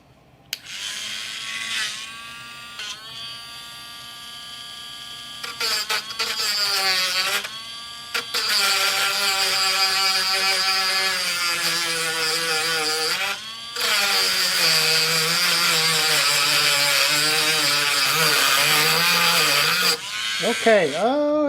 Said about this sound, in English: I got my trusty Dremel tool.